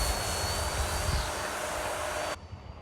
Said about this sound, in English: It's just such a stable, easy flying airplane.